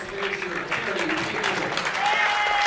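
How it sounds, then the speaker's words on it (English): Fans at a senior bowling tournament's stepladder finals give a steady round of applause, a close wash of clapping with a voice talking over it. "Kerry Painter gets a nice round of applause from the fans here"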